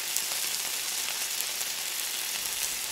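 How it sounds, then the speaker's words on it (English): Steady, dense crackling sizzle of bacon frying in a pan, continuous and fairly loud, with bright popping spatters throughout. "it's actually the sound of bacon frying"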